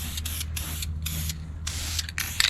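Trailer brackets being spray painted: repeated short bursts of aerosol hiss, close and fairly quiet, separated by brief pauses, with no talk.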